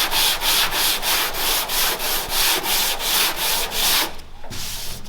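Epoxy primer guide coat on bare-metal car body panels being sanded in steady rhythmic back-and-forth strokes, close and loud, ending abruptly with a brief rustle near the end.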